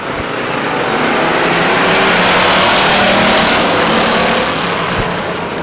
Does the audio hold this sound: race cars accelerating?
yes